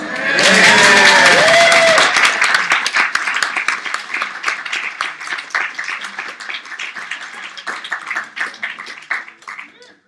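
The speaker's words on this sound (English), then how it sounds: "everybody was clapping" An audience at a wing hunt event bursts into loud clapping and cheering with shouts, then the applause thins into scattered claps that fade away over several seconds.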